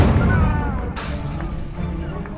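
An Incendio fire spell cast in Hogwarts Legacy, a loud whooshing burst with a crackling, booming impact that fades into lingering rumble and scattered pops.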